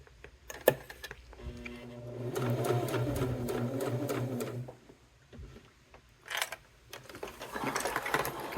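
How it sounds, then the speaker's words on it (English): A sewing machine stitches around a cork and thread wallet in a steady mechanical whir for a couple of seconds, then short bursts follow with pauses and small clicks, close and clear with no voices. "we're just going to sew around the rest of the wallet and end over here"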